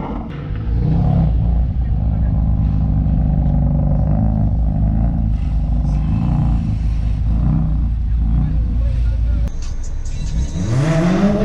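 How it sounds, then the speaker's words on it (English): Engine of a 1968 Morris Minor classic van rumbling loudly nearby, with rising and falling revs throughout and voices talking and laughing over it. "give it some revs for me, bro"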